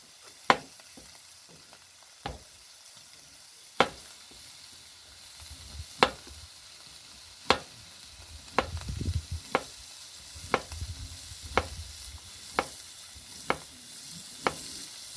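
Sliced zucchini and summer squash fry in a pan, with a soft steady sizzle under a series of sharp, regular clacks of a utensil stirring against the pan, about one every second, with no talking.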